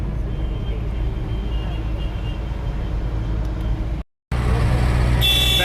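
Bangalore city road traffic rumbles as a steady, close wash of engine and tyre noise, broken by a brief dropout before the vehicle din resumes.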